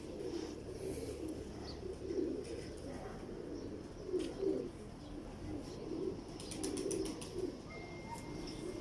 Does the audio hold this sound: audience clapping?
no